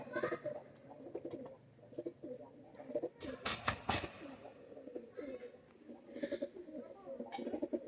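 Pigeons in a bird-selling shop, including a tobacco-coloured male with red eyes, coo in repeated low rolling phrases close by amid faint background voices and a few sharp clattering knocks midway.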